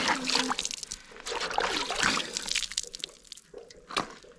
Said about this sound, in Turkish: Elimizi yüzümüzü yıkayalım en azından.